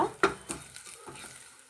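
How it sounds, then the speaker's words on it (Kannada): Cumin frying in hot oil for a North Karnataka okra curry, a brief soft sizzle with a few quick stirring scrapes and clinks of a spoon against the pan. "ಇದನ್ನು ಚೆನ್ನಾಗಿ ಫ್ರೈ ಮಾಡ್ಕೊಳ್ಳೋಣ ರೀ"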